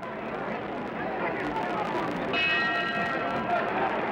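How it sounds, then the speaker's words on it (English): A boxing ring bell rings out briefly to end a round in a heavyweight bout, sounding through steady crowd roar while a commentator talks over the noise. "That's the bell for round 4."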